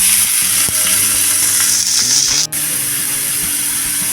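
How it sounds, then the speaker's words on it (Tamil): Finely chopped onions fry with cardamom and cumin in a pan for mushroom gravy, a loud, continuous close sizzle with light scraping and a brief dropout midway. "வெங்காயத்தை நல்லா ப்ரௌனாக வதக்கிக்கணும், அப்போ தான் கிரேவி நல்லாயிருக்கும்"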